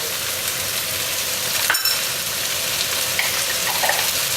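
Ginger sizzles steadily in chili oil in a pan, stirred now and then with a few soft clinks, loud and close with no talking.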